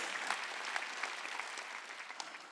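A church congregation at a Korean Sunday worship service claps together, a soft, somewhat distant wash of many hands with small irregular peaks throughout.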